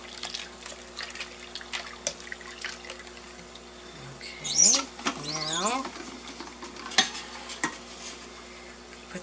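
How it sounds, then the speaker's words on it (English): Raisins are stirred in a pot with a utensil, giving intermittent close scrapes, clinks and wet patter. A voice speaks briefly in the middle. "Stir those up nice."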